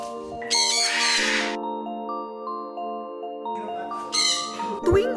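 Colorful pet birds call in two loud bursts of harsh, squawking chatter separated by a quieter gap, with a sustained musical tone running underneath.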